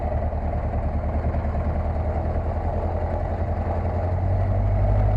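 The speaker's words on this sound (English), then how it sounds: "I just want to get the engine warmed up and get it running smooth before I commit to the flight" The engine of a Luscombe 8A light airplane idles steadily while warming up before a flight, a continuous low drone that stays even and strong and swells slightly toward the end.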